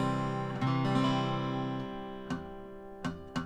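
A single guitar chord with the top string muted rings out and slowly decays, followed by a few softer plucked notes near the end.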